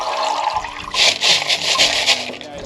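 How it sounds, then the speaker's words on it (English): Water splashes and trickles over greenstones in a colander separator, a close, bright, rushing pour in a few surging bursts after a quieter start. "Just pouring a little water over top."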